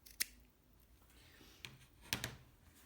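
Fabric scissors snip close to a seam on a beginner's washable wipe project, a few sharp, quiet cuts spaced apart, with a double snip near the end and faint room sound between.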